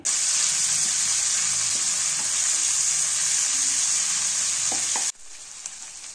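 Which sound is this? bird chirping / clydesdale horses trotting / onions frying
onions frying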